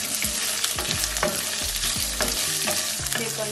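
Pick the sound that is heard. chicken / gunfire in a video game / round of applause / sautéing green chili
sautéing green chili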